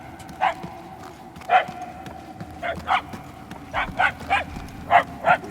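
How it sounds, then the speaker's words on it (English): Dogs bark in the video game Guardians of the Galaxy, a series of about eight sharp barks in uneven bursts over a steady low background drone, distant to mid-range. "The barks are getting louder"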